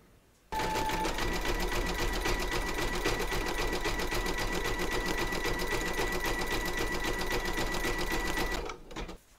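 Large vintage sewing machine satin stitching fabric with silver thread, starting abruptly into a loud, steady, fast needle whir that runs unbroken for about eight seconds, then stops.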